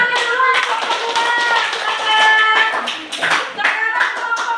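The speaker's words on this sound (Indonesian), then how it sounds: "Tepuk tangannya dulu untuk kedua." Students in a classroom clap their hands for a group, a lively burst of close, uneven claps with tapping sounds, while voices carry on underneath.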